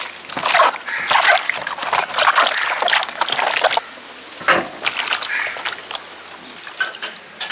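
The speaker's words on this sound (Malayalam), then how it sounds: "നമുക്ക് തിളപ്പിച്ച അരച്ച വെള്ളം ഒന്ന് ഒഴിച്ചു കൊടുക്കാം" Water poured and sloshed over pineapple in uneven splashing bursts, close by, with a short lull midway before the splashing resumes.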